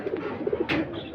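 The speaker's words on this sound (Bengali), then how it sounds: "লাল পাত্তি কবুতর" A Lal Patti pigeon coos close by, a few soft throaty pulses followed by a longer rolling coo, alone and clear.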